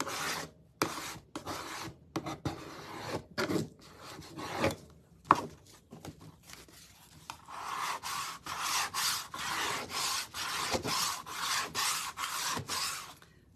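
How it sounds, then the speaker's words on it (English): A hand scraper drawn across a wooden farmhouse breadboard strips off the top coat in repeated rasping strokes, first irregular and then settling into a steady back-and-forth rhythm, close up with no voices. "you're going to end up with some really deep scrapes where you're scraping off the top coat"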